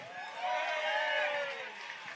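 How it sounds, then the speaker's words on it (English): A large crowd at the Irish National Oyster Opening Championships cheers and whoops for a competitor from Australia, a swelling roar that peaks midway and fades, with voices mixed in. "can we get a big cheer for Greg Carton from Australia?"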